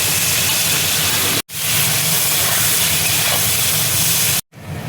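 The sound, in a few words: bay leaf, whole spices and chopped onion sizzling in hot oil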